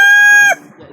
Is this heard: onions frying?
no